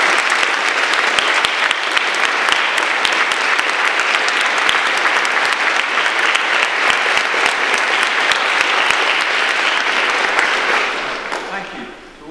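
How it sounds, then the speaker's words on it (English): A school assembly audience breaks into loud, sustained applause for about eleven seconds, dense and even throughout before fading out at the end. Hall setting with many students clapping together. "So a big round of applause, please, for Lord Harris."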